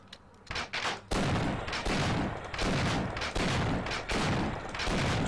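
Gunfire in the video game Half-Life, with repeated loud bursts of shots in a steady rhythm, each blast followed by a decaying echo.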